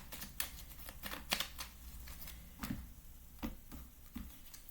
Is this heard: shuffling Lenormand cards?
yes